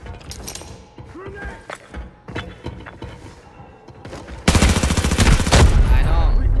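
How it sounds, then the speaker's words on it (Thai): Gunfire in the shooter game Arena Breakout, a loud sustained burst of automatic fire erupting in the second half after scattered single shots and footsteps, with players talking over it. "เอ้ยฝั่งนั้นยิงตรงไหนอ่ะ"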